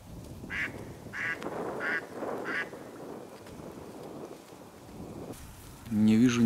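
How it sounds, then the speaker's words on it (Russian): A hen decoy duck used for spring drake hunting gives a run of four or five evenly spaced quacks at moderate distance over wind and rustle, followed by a brief louder voiced sound near the end. "Опять начинает крякать."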